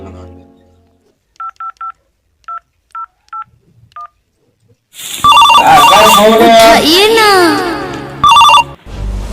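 A telephone is dialed with a quick series of short keypad beeps in separate bursts, then a loud warbling ring tone follows, close by, with a brief spoken word.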